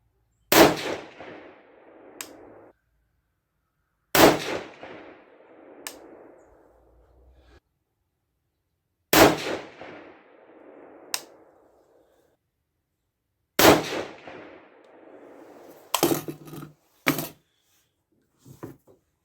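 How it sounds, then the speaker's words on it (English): Four loud 6.5 Grendel rifle shots fired at a steel target ring out several seconds apart, each a sharp crack followed by a fading echo and a faint distant clang, with some handling clatter at the end. "let's go ahead and shoot the other 4 here."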